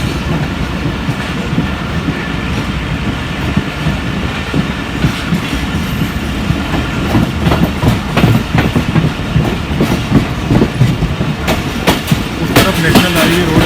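A Pakistan Railway train rolls past on the track near a national highway in Karachi, a steady loud rumble with rhythmic clickety-clack of wheels over rail joints throughout.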